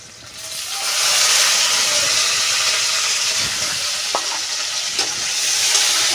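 Chopped onion and crushed garlic hit a hot pan and fry with a loud, continuous hissing sizzle that swells in the first second and holds steady, with a few sharp clicks of stirring.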